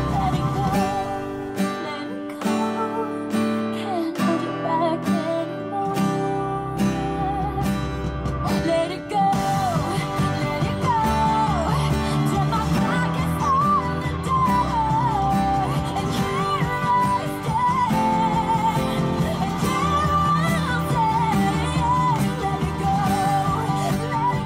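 An acoustic guitar plays the final chorus of a song from Disney's Frozen, sparse strummed chords at first that build into a fuller, continuous strummed and picked accompaniment, close and steady throughout.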